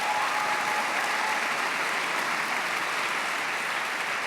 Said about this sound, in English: That is worth the applause.